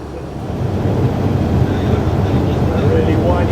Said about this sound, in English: Now I've just heard the diesel engines start up.